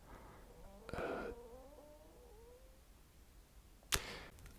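A cat meows once, a drawn-out wavering cry, in a quiet room; a sharp knock or click sounds a few seconds later.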